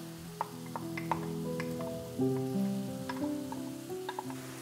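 Mushroom fried rice with green onion and olive oil sautéing in a pan, a constant sizzle with scattered sharp ticks of spatula stirring, close and alone, under a low background hum.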